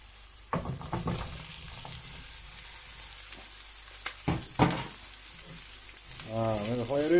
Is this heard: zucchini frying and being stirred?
yes